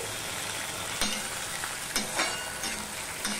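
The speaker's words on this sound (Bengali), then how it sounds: "দেখো আমি নুন হলুদ কিছু না দিয়েই চিচিঙ্গাটা ভেজে নিচ্ছি" Snake gourd (chichinga) frying in a pan with no salt or turmeric, a steady close sizzle of oil with a few sharp clicks of a spatula stirring through it.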